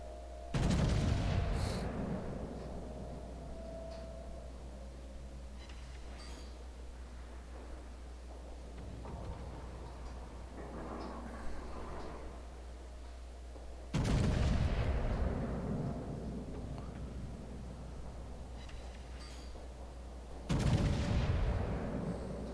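Heavy battleship guns of a Montana in the naval combat game World of Warships fire in three loud, booming salvos, each a sharp blast with a long rumbling decay, over a steady low engine drone.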